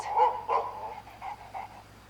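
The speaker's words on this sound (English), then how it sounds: "I just have here one very spoiled dog for observation, and he reacts to your voice every time" A dog barks in the hunting video game Way of the Hunter: two sharp, close barks, then a string of softer whimpering yips that fade out.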